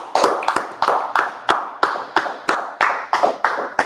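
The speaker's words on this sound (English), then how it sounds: "Let's clap it up." A group clapping hands in a steady rhythm, about three sharp claps per second, close and loud, with no talking over it.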